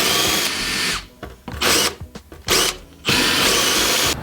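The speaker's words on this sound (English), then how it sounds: "Hopefully we can just grind that back and then treat it." An angle grinder grinds rust off van bodywork in several loud bursts, cutting in and out with short pauses and rattles between passes.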